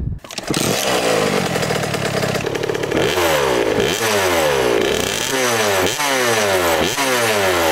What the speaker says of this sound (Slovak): Takže, KTM SX 65 2016. Je to motorka, ktorá má 20 koní. Je to crosska.